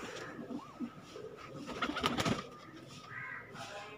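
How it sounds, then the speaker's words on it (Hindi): Teddy pigeons cooing in a rooftop loft, soft low murmuring coos repeating at moderate distance amid faint background hum and rustling. "ये माशाल्लाह इंसान टैडी कबूतर है"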